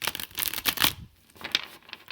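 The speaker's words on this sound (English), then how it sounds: "Let's get a few more shuffles here." A deck of tarot cards is shuffled up close, giving quick papery riffles and flutters that fade into a softer, quieter shuffle toward the end.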